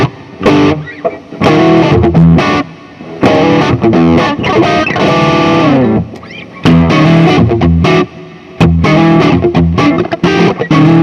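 Loud distorted riffs on an EVH Stealth copy electric guitar played in bursts with short pauses, the chords ringing out with a wide reverb tail.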